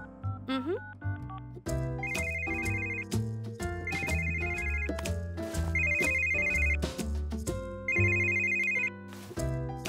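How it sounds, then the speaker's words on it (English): A mobile phone ringtone in a children's cartoon plays in short repeated bursts, four in all, steady and clear over a bed of music, with no talking. "You can call your phone and you'll hear it ring."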